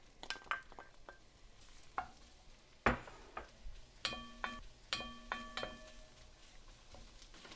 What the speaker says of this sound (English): once you hear this little sizzle, I'm going to saute my onions